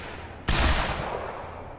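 Shotgun blast in the video game Quantum Break, a single loud close shot with a sharp onset and a decaying roar, heard alone.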